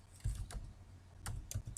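Keys clicking on a computer keyboard while entering data into an Excel spreadsheet, a few quick bursts of close, crisp taps with short pauses between them.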